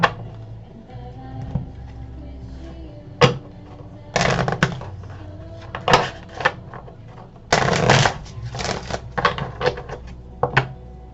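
Tarot cards are shuffled in repeated quick riffling bursts, each a sharp flurry of flicks, close up with short pauses between.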